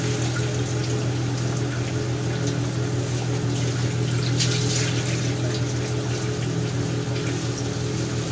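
Water pours steadily into a prawn curry masala in a pan, making a continuous close splashing rush with no pauses.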